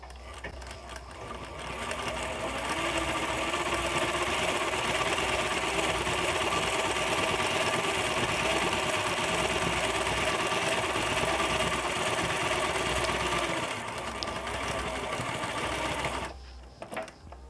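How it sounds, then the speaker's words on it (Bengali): Sewing machine stitching slowly around a torn fabric patch during a darning repair, a continuous close whirring hum that holds steady for about twelve seconds and then stops. "প্রথমে আমাদেরকে ছেঁড়া অংশের চারিদিকটা মেশিনটিকে ঘুরিয়ে ঘুরিয়ে আস্তে আস্তে সেলাই করে নিতে হবে"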